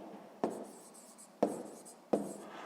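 Numbers are written by hand on paper, with three quick, close pen strokes scratching at the start of each mark in a soft, close-up scratching pattern.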